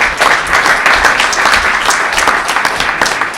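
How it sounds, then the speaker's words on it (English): An audience at a House of Commons honours event breaks into loud, dense applause, many hands clapping close and continuously without a break. "I think just we should all just give a massive round of applause for Fatima."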